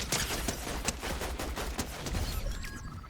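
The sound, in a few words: gunfire from an AI enemy in Fortnite video game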